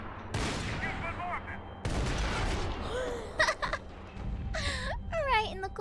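Gunfire from the video game Max Payne 3 comes in rapid bursts along with whooshing game effects. Voices sound over and between the shots.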